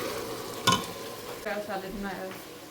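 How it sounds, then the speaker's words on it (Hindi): Ginger and garlic paste fries in a pan with a soft continuous sizzle, a sharp utensil scrape against the pan near the start and a brief faint voice in the background. "देखिए जिंजर पेस्ट भी हमने डाल दी, गार्लिक पेस्ट भी डाल दी। अब ये भून रहे हैं"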